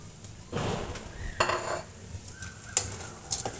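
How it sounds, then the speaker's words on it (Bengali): Crabs go into a pan of cooked-down spiced masala with clattering pan and utensil knocks, a few bright metallic clinks and a light sizzle, close up with no talking. "এই সময় আমি কাঁকড়াগুলো দিয়ে দিব"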